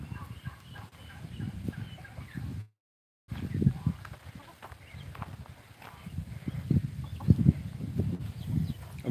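Chickens on a farm with turkeys and geese nearby cluck in scattered, low bursts at moderate distance, with faint rustling between calls and a brief dropout partway through.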